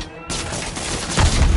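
Rapid gunfire from the Spider-Man PS4 video game, a dense, loud barrage of shots that swells toward the end.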